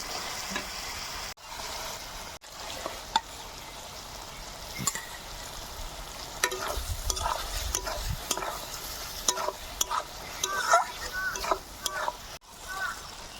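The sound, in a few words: frying ridge gourd with cumin, green chili, ginger paste, salt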